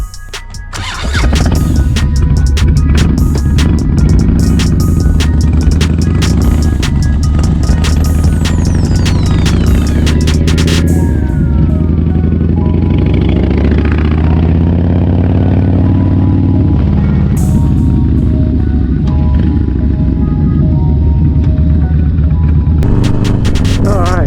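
A Harley-Davidson Dyna motorcycle starts and rides off on a test ride, its V-twin engine loud and close with a deep, steady rumble that rises and falls with throttle changes, plus some wind buffeting throughout.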